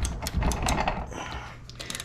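A Snap-on 14 mm 6-point socket on a ratchet wrench, clicking in a quick run of close, light pawl ticks, then a short pause and another burst of clicks.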